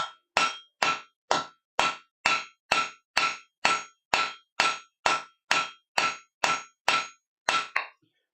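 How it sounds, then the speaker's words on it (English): Steady ball peen hammer blows on hot metal at a forge, about two per second, each a bright ringing clang that decays quickly, close and loud with no voices. "Just a different look using the big ball peen hammer."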